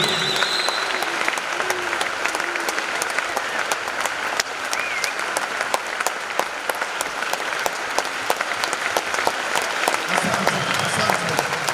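An audience at a business conference in a worship session applauds steadily, dense continuous clapping with some voices and cheers mixed in, loud and sustained throughout.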